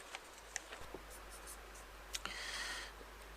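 Equations being written by hand, quiet scratchy strokes with small taps and a brief longer scrawl near the end, close and faint with no talking.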